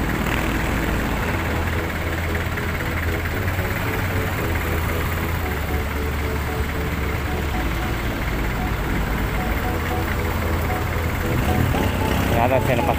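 Tricycle and motorcycle engines pass on an early-morning road, a steady mix of low engine rumble and traffic noise with a voice talking over it.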